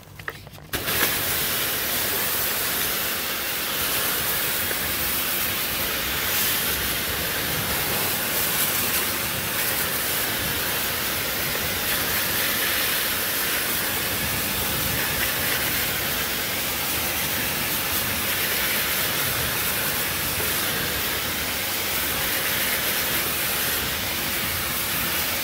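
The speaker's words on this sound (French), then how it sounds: "Ok, donc là on va rincer." Water sprays onto a car wheel rim while it is rinsed during detailing, a loud, steady hissing rush that continues without a break for about 25 seconds after a brief start.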